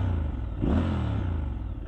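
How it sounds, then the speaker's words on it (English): A Triumph Scrambler 1200 XE motorcycle engine rumbles close by and rises in a short rev before settling back to a steady idle, loud and alone without talk. "we're on the Triumph Scrambler 1200 XE. And we're taking this out for its first ride"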